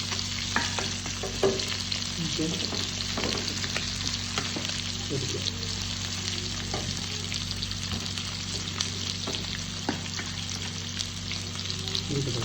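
Fish coated in masala sizzles steadily in a frying pan, a close continuous crackle with occasional scraping and stirring clicks.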